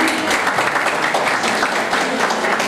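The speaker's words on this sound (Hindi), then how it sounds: "इस खूबसूरत नज़म के लिए एक बार फिर तालियां।" An audience at a school Independence Day celebration in Bahawalpur claps after a poem recitation, a dense, steady wash of applause that stays loud and even from start to finish.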